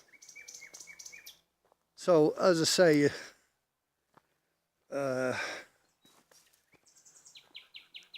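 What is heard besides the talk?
nightingale singing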